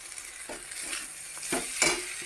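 Sugar is stirred into hot ghee in a pan for fried rice: a soft background sizzle with a few brief scraping strokes from a spoon, close and fairly quiet.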